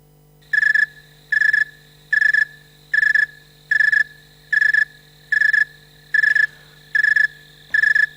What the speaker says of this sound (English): The snowy tree cricket sounds like this.